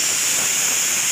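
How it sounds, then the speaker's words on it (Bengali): Steady, loud hiss of steam escaping from a pressure cooker whistle as rice cooks, a continuous high rushing tone holding evenly throughout with no pauses. "আমার বিড়ালের ভাত হয়ে গেল। সিটি মারছে"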